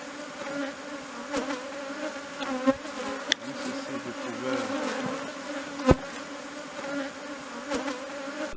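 Honeybees hum steadily at a school hive in the Yangambi agroforestry landscape, a close, continuous buzz with a few louder passes by individual bees and no talk.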